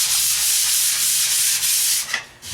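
Sanding the edges of cabinet doors for a DIY travel trailer, a steady, close abrasive rubbing hiss that runs unbroken before easing off near the end.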